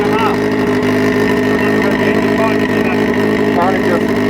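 A 300 bhp Mazda MX5 drift car's engine drones loudly and steadily, held at about 5,500 rpm and not climbing past it, with voices talking over the engine noise.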